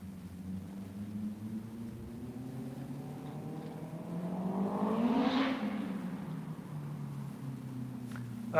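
A small Subaru car approaches and passes by on a road near a river harbour, its engine and tyre noise rising to a broad peak mid-way and then fading, heard from a moderate distance over steady background rumble.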